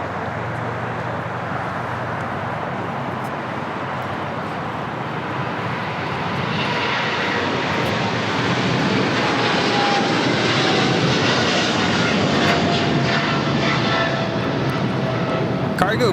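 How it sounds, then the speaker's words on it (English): A China Cargo Airlines Boeing 777 freighter takes off from LAX, a loud sustained jet engine roar that swells and grows brighter partway through as power builds, continuous and dominant. "Taking off to Shanghai on a 777 freighter"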